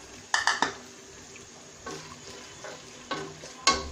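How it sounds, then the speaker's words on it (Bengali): Spice paste fried lightly in a pan with bay leaf, cardamom and cinnamon for white pulao: sharp spoon-on-pan scrapes and clinks come in short bursts over a soft, steady sizzle. "পেস্টটা একটু হালকা ভেজে নেব,"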